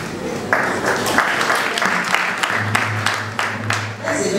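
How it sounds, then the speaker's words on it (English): A small group claps briefly, scattered hand claps over a murmur of voices in a room. "That's a very small clap."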